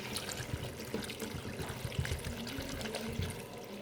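Water, about 1.5 litres, is poured into a pot of black chickpeas on the stove in a steady, close trickle and splash lasting several seconds, with no talking.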